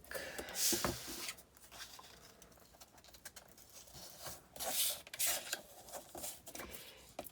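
Paper pieces for travel album pages being folded in half along a score mark, with soft crinkling and rustling bursts and a few light taps, quiet and close, no talking.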